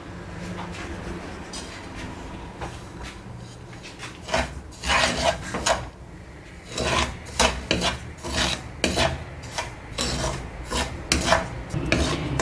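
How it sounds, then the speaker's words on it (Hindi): Dry semolina (sooji) roasts in a pan for halwa while a spoon stirs it, making repeated close scraping, rasping strokes that grow busier and more rhythmic. "सबसे पहले मैं सूजी को 3 से 4 मिनट इसकी भुनाई करूँगी।"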